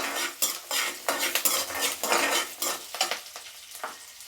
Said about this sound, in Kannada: ಹಾಗೆ ಇದರಲ್ಲಿ ಸ್ವಲ್ಪ ಜೀರಿಗೆ, ಇವನ್ನ ಒಂದು ಸ್ವಲ್ಪ ಲೈಟಾಗಿ ಫ್ರೈ ಮಾಡ್ಕೊಳ್ಳೋಣ.